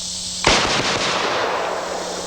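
A single sharp shot from a gas-operated gun fired at a target on a range, loud and close, followed by a long decaying echo and steady background hiss.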